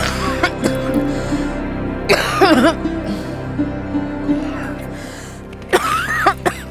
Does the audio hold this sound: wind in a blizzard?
no